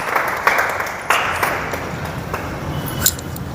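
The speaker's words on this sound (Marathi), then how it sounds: "क्लॅप क्लॅप वाजवा टाळ्या सगळ्यांकडून" Scattered hand claps from children in a classroom, a few sharp bursts spaced irregularly over low background noise rather than sustained applause.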